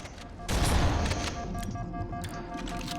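A loud burst of explosions and gunfire in the Halo video game, with a sharp blast near the half-second mark followed by a sustained roar and crackle.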